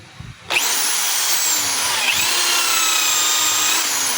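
A Stanley SDH600 half-inch hammer drill set to drill mode starts abruptly and runs at steady high speed with a loud, continuous whine that holds for several seconds, close by with no talk.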